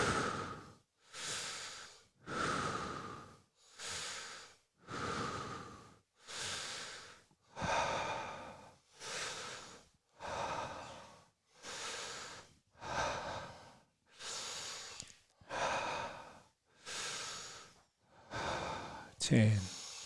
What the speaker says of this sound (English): Breathing in for the last reps.